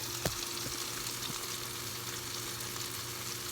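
Tofu fries in a heated pan with a steady, soft sizzle and crackle, a faint close hiss with a small clink near the start and no talking.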